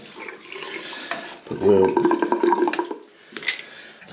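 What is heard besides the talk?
water running back into the pipes and roof tank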